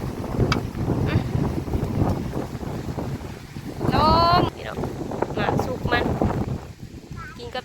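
Strong wind gusting along a creek in open countryside, loud rough buffeting and roaring against the microphone throughout, with people talking over it.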